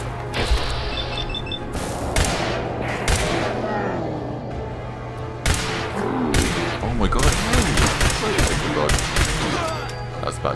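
Gunfire in the post-apocalyptic shooter Fallout 4: repeated sharp shots and short volleys over a steady hum, with some thuds and clanks and game voices mixed in.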